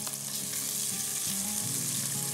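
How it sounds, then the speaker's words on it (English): Chopped onions, ginger and garlic frying in a pot produce a dense, constant hiss of sizzling oil, close and steady throughout with no talking. "I'm going to add the ginger and garlic,"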